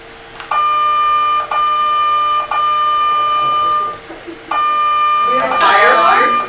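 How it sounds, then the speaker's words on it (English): A fire alarm blares through a room during a talk on arthritis and movement, sounding loud, sustained piercing tones in roughly one-second repeating bursts with brief gaps, and voices murmur toward the end. "We have a fire alarm."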